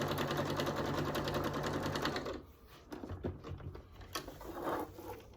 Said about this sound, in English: I'm going to go ahead and stitch that 1/4 inch to tack that side of the binding down